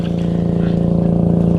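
A small boat's motor runs at a steady drone, a loud, close, even buzz with a fast regular pulse, heard alone for a moment.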